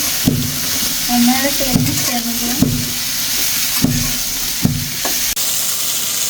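Spiced curry being sautéed in a pan, a steady sizzle broken by regular sharp scraping strokes of a spatula, close and fairly loud, with a faint voice briefly in the background.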